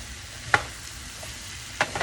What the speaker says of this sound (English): I'm going to go ahead and stir that.